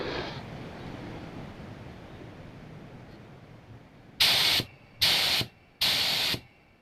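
Three loud bursts of hissing spray from a Porphis PRD715/PRD717 V split tip spray gun, each lasting under a second with short gaps, close to the microphone over a faint background hum.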